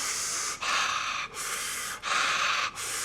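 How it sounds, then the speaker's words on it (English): Deep breathing during a panic attack: four slow, loud, airy breaths close to the ear, each separated by a brief pause, with no talking. "take some deep breaths for me"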